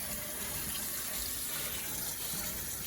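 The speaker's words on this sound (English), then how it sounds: "Now it's the cleaning process. You rinse them all off." Tap water runs steadily into a sink as jumbo Gulf of Mexico shrimp are rinsed clean, a continuous close splashing hiss with no talk.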